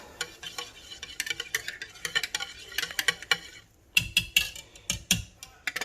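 A utensil quickly stirring sweet bread batter with oil in a bowl, irregular light clinks and taps in quick succession, close and fairly quiet with no talking.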